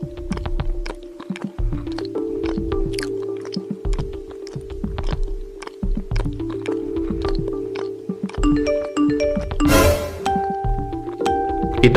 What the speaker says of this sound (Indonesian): Itu kenapa HP kamu dari tadi bunyi terus?